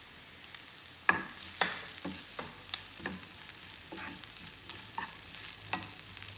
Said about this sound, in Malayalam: ഈ തേങ്ങയും കൂടി ഇട്ട് ഒന്നുകൂടി വാക്കിയെടുക്കാം